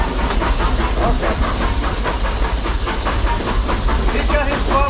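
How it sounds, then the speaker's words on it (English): A Disney steam locomotive vents steam through its open cylinder cocks as it accelerates. A loud, continuous hiss with a faint rhythmic pulse runs throughout, with no voices. "By opening up those cylinder cocks, besides, purging out water, it leaks a little of your pressure"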